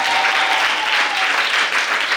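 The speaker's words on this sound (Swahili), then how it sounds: "piga makofi na vigelegele kwa Yesu" A church congregation claps and ululates in praise, with loud, dense, sustained clapping and a high ululating trill running through it, close and continuous.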